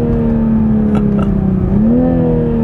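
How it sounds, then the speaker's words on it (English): A BMW straight-six in a Toyota Supra drones steadily and loudly from inside the car, its pitch rising a little toward the end, with a couple of faint, brief pops near the middle. "listen to that engine sing and the way it crackles and pops"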